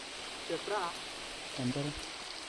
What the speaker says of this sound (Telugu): గట్టిగా వర్షం అయితే వస్తుందండి